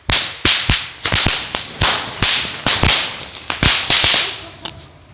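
Firecrackers set off outdoors to drive away mosquitoes pop in a rapid, irregular series of about fifteen loud sharp cracks, each with a brief ringing tail, close by and with no talking.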